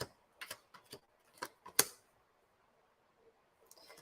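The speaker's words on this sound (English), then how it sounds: "Get a good shuffle in here." Tarot cards are shuffled by hand in a series of quick, sharp riffling snaps and flicks. The bursts are separated by short pauses and end in a louder final snap, followed by near silence and a faint rustle.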